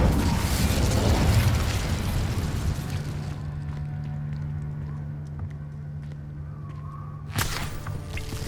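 Incendio fire spell cast in the game Hogwarts Legacy, a loud whooshing burst of flame that fades into a low humming background, followed by another sharp burst shortly before the end.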